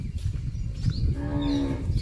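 A cow lets out a single drawn-out moo close by in a farm setting, rising over a low rumbling background, with no talk.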